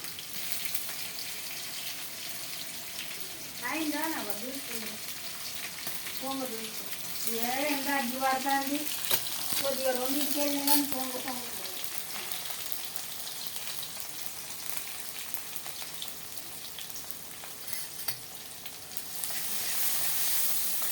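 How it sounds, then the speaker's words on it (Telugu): Green chillies, onions and ginger-garlic paste fry with a steady hiss while being stirred in, and a voice speaks over the sizzle in the middle. "పచ్చిమిర్చి, ఆనియన్, అల్లం ఎల్లిగడ్డ పేస్టు వేసి మంచిగా కలపాలి"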